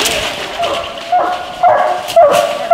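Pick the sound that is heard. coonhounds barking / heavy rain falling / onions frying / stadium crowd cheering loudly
coonhounds barking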